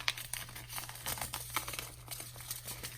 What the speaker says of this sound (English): I'm gonna distress this seed packet. I actually should crumple it.